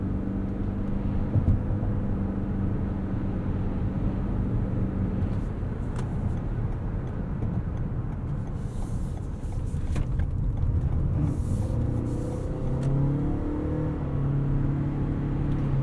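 2.5-liter four-cylinder engine of a 2021 Toyota Venza Limited running while driving, a steady low rumble and road drone from inside the cabin, fairly quiet and even with slight rises in engine note.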